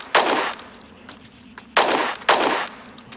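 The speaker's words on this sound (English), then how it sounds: "This is the shotgun." Shotgun fire in the video game Arma 3: three loud, sharp blasts, each with a short booming tail, one early and two closely spaced later, separated by brief lulls.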